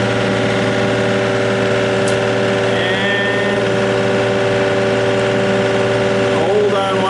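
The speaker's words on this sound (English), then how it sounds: "Alright, we're starting up the machine, and we're going to check the hydraulics on this side." Yanmar VIO35-2 mini excavator diesel engine running steadily, loud and close, with a constant drone and faint squeaks near the end.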